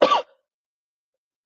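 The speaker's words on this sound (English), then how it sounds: "Cough happened." A single short cough with throat clearing, close and brief, followed by silence.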